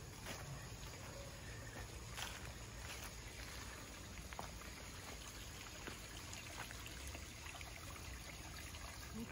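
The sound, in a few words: small waterfall and stream trickling in a park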